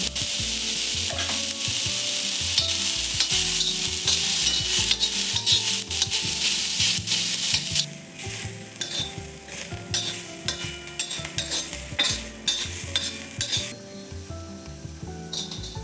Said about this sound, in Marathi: कांदा भाजताना थोडं मीठ घालायचं त्यामुळे कांदा लवकर भाजला